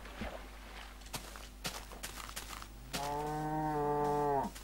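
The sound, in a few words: cow mooing in the video game Minecraft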